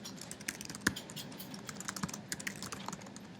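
Typing on a computer keyboard in a quiet room: a steady run of light, irregular key clicks with a few sharper taps standing out, close and alone without any voices.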